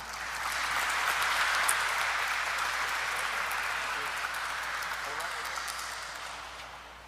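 An audience at a corporate IPO listing ceremony gives a round of applause, a soft, diffuse wash of clapping that swells and slowly fades, heard from a distance in a large hall.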